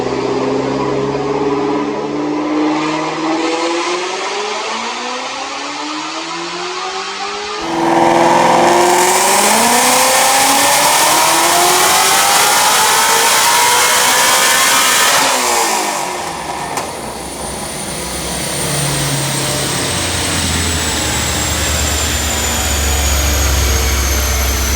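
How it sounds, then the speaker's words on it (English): Whipple-supercharged 2019 Mustang GT350R on a dyno pull, engine climbing in pitch through the gears with loud rising revs, a shift-like break midway, then easing off into a lower roar. "Let's watch the dyno pull"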